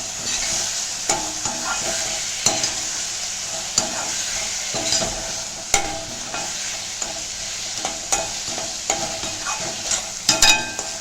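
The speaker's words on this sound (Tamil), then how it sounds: "இப்போது நம்ம துருவி வச்சுருக்கிற இஞ்சியை சேர்த்துக்கலாம்" Grated ginger and green chillies fry in hot oil, making a steady close sizzle broken by irregular spoon clinks and stirring scrapes, with no one speaking.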